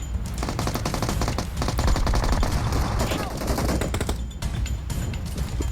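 Rapid automatic gunfire rings out in the PUBG battle royale game, with dense bursts of shots running through most of the stretch and people talking over the shooting.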